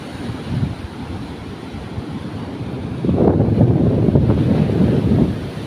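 Strong sea waves roll and rush during a fishing outing, a broad roaring wash mixed with wind buffeting the microphone, swelling louder partway through and staying heavy, with no talk.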